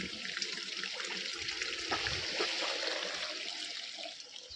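Water gushing from a pipe into a storage tank in summer, a steady faint hiss and splash continuing throughout without pause.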